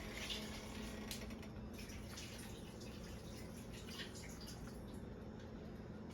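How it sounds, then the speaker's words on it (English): Hot water is drained off boiled yellow potatoes in a kitchen, making a steady soft pouring and splashing rush with scattered drips, fairly faint and continuous throughout. "I'm just gonna drain the water real quick."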